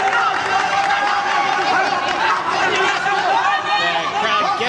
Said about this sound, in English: The crowd getting excited.